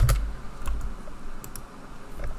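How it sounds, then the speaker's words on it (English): Keys tap on a computer keyboard, a few scattered clicks heard close up against a quiet room. "From here you can type in the AMD website"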